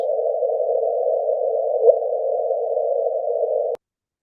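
Image data converted into sound and shifted up 400 hertz, heard as a steady, loud, buzzing hum at one pitch that holds for almost four seconds and then cuts off abruptly into silence.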